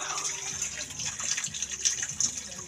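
Tap water runs into a container beneath a spring-fed faucet, a steady splashing gush at moderate level with a few louder bubbling bursts toward the end.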